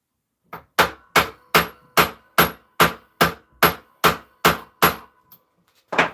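A steady series of about a dozen sharp metallic taps from a small hammer, close and loud, evenly spaced with a brief pause near the end.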